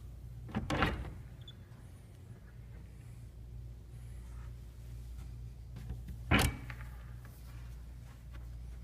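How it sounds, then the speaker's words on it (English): Ark doors in a synagogue are opened, giving two brief wooden knocks or clunks several seconds apart over a low steady room hum. "And I'm going to open the ark doors."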